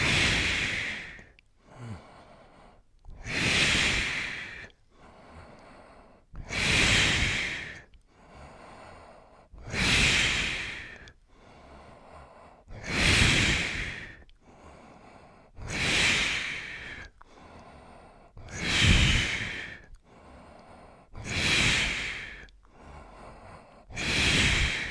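Slow, deep breathing in and out during a yoga exercise, with about a dozen strong, airy breaths repeating at a steady rhythm, close and alone.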